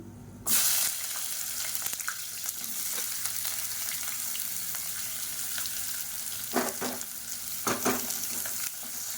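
A loud, continuous sizzle of sliced onions frying in hot oil for chicken biryani in a pressure cooker starts abruptly and holds steady, with occasional stirring clatters near the end.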